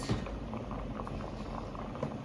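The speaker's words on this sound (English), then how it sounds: "The hominy corn started to boil" Hominy corn boils in a pot of water, a steady bubbling simmer with soft popping blips, close and fairly quiet, with no talk.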